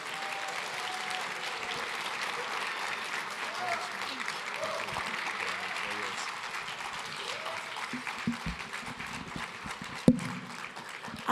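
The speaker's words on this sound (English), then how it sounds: "Everyone, please give a round of applause" A gala crowd at a CAIR-Chicago 20th anniversary dinner applauds a congresswoman's introduction, with steady moderate clapping throughout, murmured voices beneath it, and a sharp louder clap or knock near the end.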